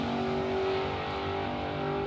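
A drag race car at Warwick Dragway, engine stuttering as if hitting the limiter or misfiring, a loud sustained roar with a choppy pulsing edge running through the whole stretch.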